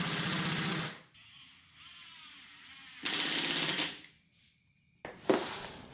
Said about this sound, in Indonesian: kita pakai paku tembak terlebih dahulu, baru nanti teman-teman itu pakai skrup atau dibor countersink terlebih dahulu